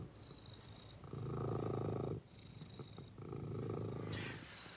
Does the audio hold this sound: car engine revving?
no